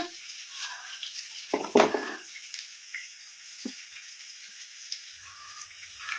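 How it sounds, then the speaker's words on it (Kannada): Onions sizzling in hot oil over a medium flame while making brinjal fry, a steady soft hiss with a couple of louder stirring scrapes and clatters partway through, close by with no talking. "ಮೀಡಿಯಮ್ ಫ್ಲೇಮಲ್ಲೇ ಫ್ರೈ ಮಾಡ್ಕೋಬೇಕು ಉಳ್ಳಾಗಡ್ಡೆನ ಒಂದು ಸ್ವಲ್ಪ ಫ್ರೈ ಆಗಬೇಕು"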